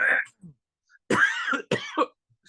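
A short throaty sound followed by two harsh, close coughs in quick succession, with brief silence between them.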